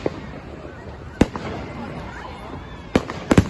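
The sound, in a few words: bonfire night fireworks exploding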